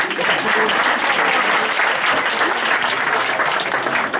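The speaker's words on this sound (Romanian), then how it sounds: "Aplauze pentru Maria" Festival audience applauding loudly and continuously, a dense wash of clapping from start to finish.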